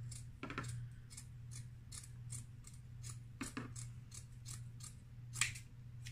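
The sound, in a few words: cutting material to length for a DIY moss pole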